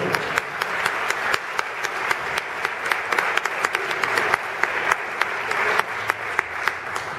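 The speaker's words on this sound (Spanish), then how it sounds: "me gustaría que le brindemos un aplauso el primero de la noche" Audience applause at a cultural centre evening event in Río Cuarto, Argentina, steady dense clapping from many hands throughout, moderately loud and even, with no talking over it.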